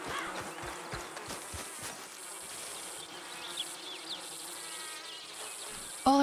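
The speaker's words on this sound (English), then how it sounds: "I was like, why does it sound like there's a million flies there? But it's bees." Bees buzz in a swarm in Red Dead Redemption 2, a dense continuous droning hum at moderate level, with faint hoof-like clopping early on and no talk.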